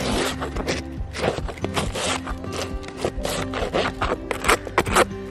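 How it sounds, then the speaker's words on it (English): Old dark comb scraped off a wooden beehive pollen frame, a rapid series of rough rasping scrapes and scratchy strokes close up, continuous with brief pauses, no talk. "So what I'm gonna do is I'm actually just gonna scrape all this off"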